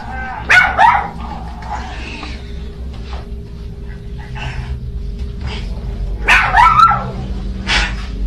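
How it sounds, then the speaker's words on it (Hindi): One dog barks angrily in two loud clusters of sharp barks with a low steady hum underneath and quieter sounds between. "कुत्ता भौंक रहा देखते हुए"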